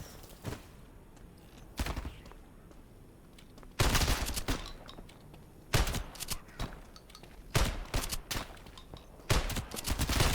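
Enemies firing guns at the player in the video game From the Night: sharp, loud bursts of gunfire come in several volleys with brief gaps between them, heaviest in the second half, with no voices.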